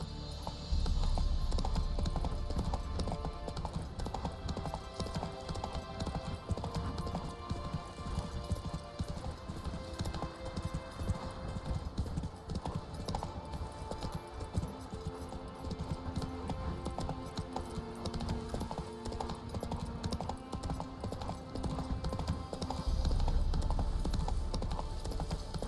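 Roach the horse galloping in The Witcher 3, rapid rhythmic hoofbeats pounding steadily throughout over a busy game soundscape of music and ambience, with occasional faint game voice lines.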